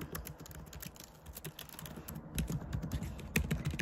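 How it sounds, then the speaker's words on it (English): Rapid, uneven clicking of keys on a computer keyboard, close by, with a few louder keystrokes near the end. "I'm typing it up so I can have it here on my computer"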